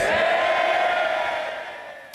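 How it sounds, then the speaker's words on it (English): MPs in the House of Commons cheering and calling out for the Chancellor after his statement, a loud sustained roar of many voices that fades away over two seconds. "you can hear there the reaction from the Chancellor's own MPs, as you might expect, congratulating him, cheering him"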